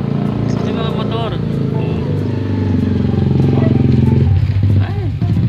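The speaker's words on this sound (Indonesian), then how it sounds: "May dumadaan na vroom vroom." Motorcycles pass along a road on an overcast day, a continuous loud engine drone that swells toward the end, with voices talking over it throughout.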